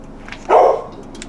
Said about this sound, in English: They have a dog.